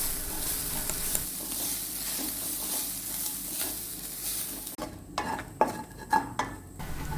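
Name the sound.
coconut and onion frying in a pan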